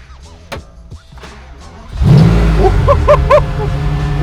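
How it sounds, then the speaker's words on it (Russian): A fake Lamborghini replica car's engine cranks and catches at about two seconds, then settles into a loud, steady idle close by, with a few thumps and short clicks before it starts. "Ну, будем надеяться, что она заведется."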